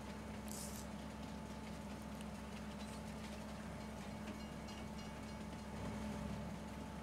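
A train running in Farming Simulator 22 gives a steady, continuous rolling rumble with low hum, constant in level throughout and alone, with no voices over it.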